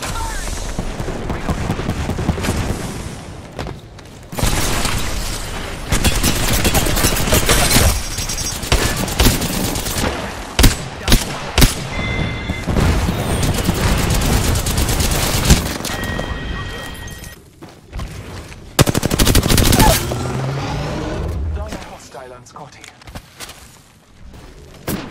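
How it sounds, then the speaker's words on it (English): Dense video game gunfire from a first-person battle royale shooter: sustained bursts of rapid automatic fire and overlapping shots, loud and close, broken by brief pauses and occasional booming impacts. "I am taking fire, friends."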